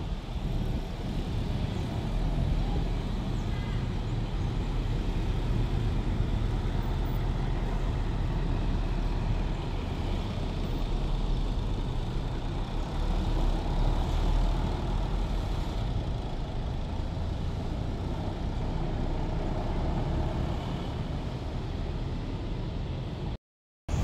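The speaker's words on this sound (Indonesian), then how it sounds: "Oke, ini konvoy 2 unit dari bus Agramas." Two Agramas buses travelling in convoy near a bus terminal, their heavy engines giving a steady low rumble with road noise that holds for most of the stretch before cutting off abruptly, no voices.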